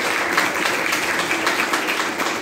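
Audience applause at an NSS unit celebration of Swami Vivekananda's birthday, a steady wash of many hands clapping together, loud and continuous without voices.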